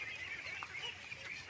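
Twenty-nine-day-old ducklings call in a brief burst of faint honking quacks at a distance.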